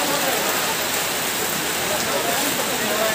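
Rain falls steadily at an outdoor vegetable and fruit market in Dimapur, a dense hiss of drops on surfaces throughout, with people talking under the downpour.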